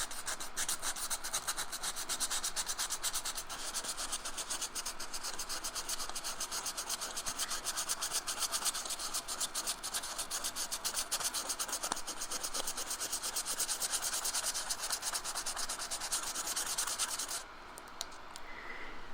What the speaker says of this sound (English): Now I'm going to bring in some sandpaper, 600 grit, very fine.